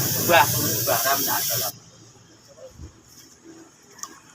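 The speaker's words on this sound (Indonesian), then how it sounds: "Setelah kering nanti kita semprot, kita tutup clear." A spray gun lays a clear coat onto a motorcycle body panel, a dense steady hiss that cuts off abruptly partway through, leaving near silence with faint light handling noises.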